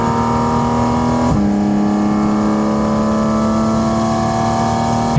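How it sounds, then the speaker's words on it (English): A Porsche GT4 RS under light throttle, with intake air sucked loudly into the intakes just behind the cabin, giving a steady, close, humming induction drone that drops in pitch briefly, then slowly climbs again. "When you start to apply a little bit of throttle pressure, you can hear the air being sucked into those intakes right behind your ears."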